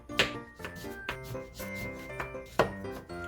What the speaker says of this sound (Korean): 레몬도 썰어서 준비해줍니다.